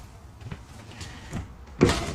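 Soft-closing cabinet drawer in a toy hauler RV kitchen, a few faint slides and light knocks, then one louder muffled thump as it settles shut near the end.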